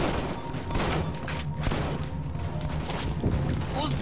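Gunfire in a Halo 2 custom multiplayer game, dense overlapping shots and booms running continuously at steady loudness, with players talking over the battle.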